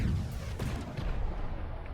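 Cruiser guns firing in From the Depths, a burst of heavy booming shots with low rumble, a second thump following the first, no talk over it.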